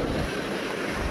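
Rough sea surf rolls in ahead of Typhoon Tino in Central Visayas, reaching seaside houses; a brief, constant wash of wave and wind noise with a low rumble underneath and no talking.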